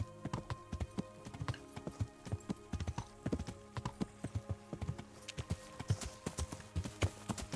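A horse's hooves clip-clop in a steady walking rhythm in the medieval video game Kingdom Come: Deliverance, close and distinct, with no talk over them.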